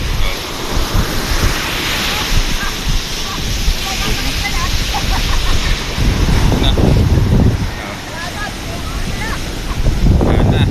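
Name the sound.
big sea waves and wind at a boat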